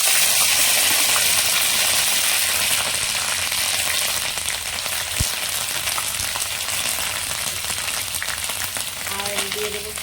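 Onion paste frying in hot oil, a steady loud sizzle and crackle running throughout with a few small stirring knocks.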